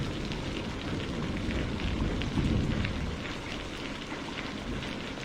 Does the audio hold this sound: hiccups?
no